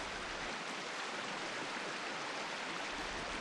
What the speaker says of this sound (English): Water runs gently down the stream.